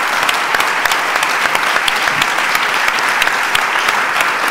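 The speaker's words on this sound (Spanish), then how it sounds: "Ya lo tienen, un fuerte aplauso, por favor." Strong, steady applause from a seated audience at an anniversary gala, dense clapping filling the room without pause, close and loud.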